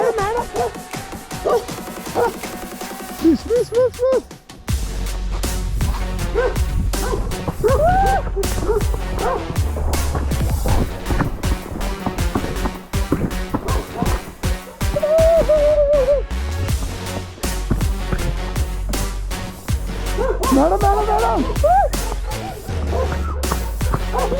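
Near Chichoga forest in Manali, a dog barks loudly and over and over for about twenty-four seconds, the sharp barks mixed with yelps and whines, after a short quieter stretch at the start.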